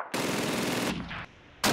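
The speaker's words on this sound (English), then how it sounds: "Can I get to the mounted turret? Tell me I could use this." A mounted machine gun turret in Call of Duty 2 fires loud, rapid continuous bursts up close, pausing briefly before another burst starts.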